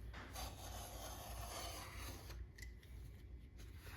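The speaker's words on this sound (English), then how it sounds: "I'm just using a simple utility knife" A simple utility knife slices through leather for a crossbody messenger bag, producing a faint, continuous rasping drag over a few seconds, quiet and close, with no voices.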